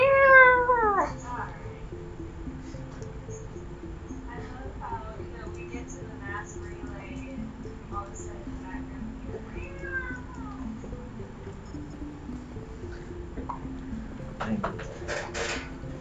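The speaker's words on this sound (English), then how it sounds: "all of a sudden in the background you hear meow" A cat meows a couple of times with rising and falling calls in the game Mass Effect, set against a low ambient background hum; another faint meow follows later.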